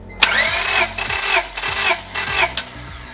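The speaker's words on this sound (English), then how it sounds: "Before you crank the engine, make sure that you step on the gas pedal all the way down" A car engine cranks over repeatedly with the throttle held wide open during a compression test, giving several rhythmic bursts of starter whir, close and loud, with no voices.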